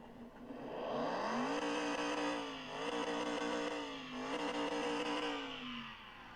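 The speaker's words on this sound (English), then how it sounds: "I don't personally think all the V8 should sound the same" A V8 car engine in the video game Car Mechanic Simulator 2021 revs up with a deep rumbling note, holding high through a couple of brief dips before settling, loud and close with no talk.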